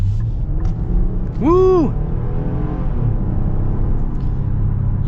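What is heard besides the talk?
2023 Nissan Pathfinder Platinum accelerating in sport mode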